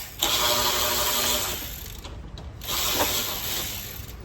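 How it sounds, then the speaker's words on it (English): Ratcheting clicks and metallic turning as screws and bolts are removed from a light assembly on an INEOS vehicle during an LP4 bracket installation, steady and close with a brief pause midway and no talking. "Once you get in here, you've got these lights to take off, or these screws to take off, which Noah's doing right now"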